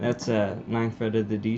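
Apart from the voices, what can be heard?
No distinct noise like a dog, phone or traffic.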